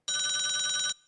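A telephone bell rings in one continuous rapid trill, bright and metallic, lasting under a second before cutting off cleanly, with no voices.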